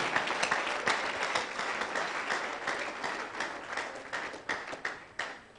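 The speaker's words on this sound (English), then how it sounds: "clap for the Lord" Church congregation clapping during a live prophetic ministry service, a steady dense patter of many hands held at an even level throughout with a few sharper claps standing out.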